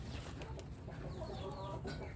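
Farm chickens at a poultry operation cluck softly over a constant low hum, with a few short calls rising above the background.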